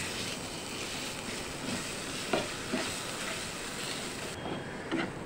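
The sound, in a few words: roasting mawa (milk solids) with raisins in a pan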